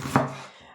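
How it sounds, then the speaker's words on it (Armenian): A single knife chop through onion on a board, a short crisp thud close by, followed by brief quiet. "Սոխը կտրտեցի"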